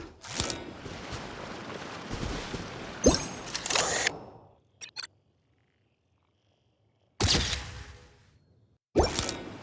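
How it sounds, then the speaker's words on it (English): Fireworks in Genshin Impact bursting in several separate sharp pops and crackles, some close and loud, with quiet gaps between the groups of bursts. "Fireworks! Guess there was no danger after all."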